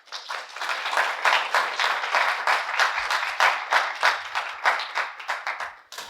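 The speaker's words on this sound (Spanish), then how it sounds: "los recibimos con un fuerte aplauso" Sustained audience applause at a talk or panel event, dense overlapping clapping held steady and fairly loud for about six seconds before tapering at the end, with no speech over it.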